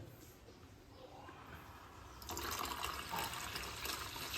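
After a quiet start, water suddenly pours steadily onto dough in a pot for kneading, splashing continuously until the end.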